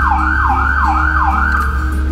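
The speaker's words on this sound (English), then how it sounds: "Here goes siren 1 and 2." Two loud wailing ambulance sirens at a fire station cycle up and down in a steady repeating sweep, close by, over a low engine hum.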